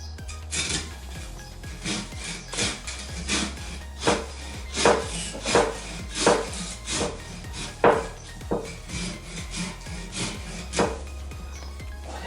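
Plum tree branches being cut in an orchard-grown tree, giving a series of crisp woody snips and rasping saw-like strokes, irregular and close, with no talk.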